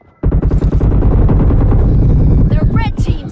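Rapid automatic gunfire in the shooter game PUBG Mobile hammers out in a loud, dense burst of shots lasting several seconds, followed by a few sharper effects at the end.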